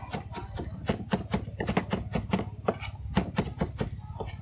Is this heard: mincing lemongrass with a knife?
yes